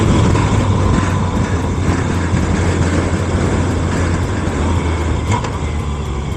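A truck engine downshifting to sixth gear on a CDL test route, a loud, continuous close-up engine drone and road rumble that stays steady throughout, with no talking.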